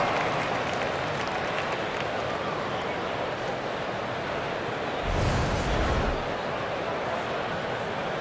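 A broad, steady wash of crowd noise runs throughout, with a brief louder swell of clapping and cheering midway, like an arena audience applauding, in the basketball video game NBA 2K25.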